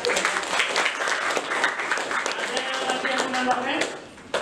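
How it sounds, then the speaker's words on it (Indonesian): Classroom applause during a group discussion lesson, a burst of many students clapping with voices and chatter mixed in, fading toward the end. "Tepuk tangan untuk Najla."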